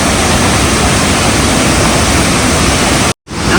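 Loud, steady roar of rushing water pouring down at Meenvallam waterfall in Palakkad, broadband and continuous, cutting out abruptly near the end before resuming.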